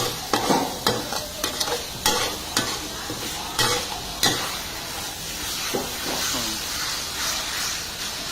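Food is stir-fried in a hot pan. A run of sharp spatula scrapes and knocks comes first over a loud, hissing sizzle, then the steady frying hiss carries on alone near the end.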